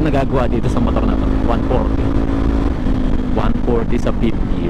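Kawasaki Z400 motorcycle riding at speed on a mountain road up Mt. Samat, a loud steady engine and wind roar throughout with someone talking over it.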